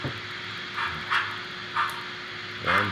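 BLI Union Pacific 4-12-2 model locomotives, road numbers 9035 and 9039, running while not yet broken in, giving a steady whirring motor hum with a faint whine and a few soft periodic swells, near and alone.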